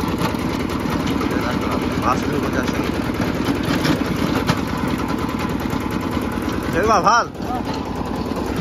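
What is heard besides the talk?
tractor engine idling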